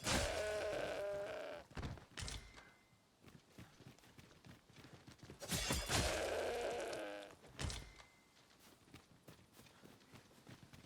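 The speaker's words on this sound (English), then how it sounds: "Hey, that's a goat. Haven't seen a goat yet." A goat in the video game Dragon's Dogma 2 gives a few wavering bleats in short bursts, mixed with soft footsteps and game ambience between the calls.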